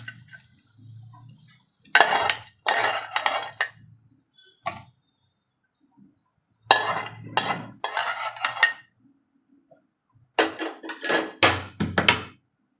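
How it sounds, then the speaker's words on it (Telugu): Dry fruits and ghee being mixed into powder for homemade malida, heard as bursts of metal spoon scraping and clinking against a dish in three separate stirring spells with quiet gaps between. "ఈ పొడిలో ఈ డ్రై ఫ్రూట్స్ అన్నీ, నెయ్యి అన్నీ కలిపి వేసేసిద్దాం."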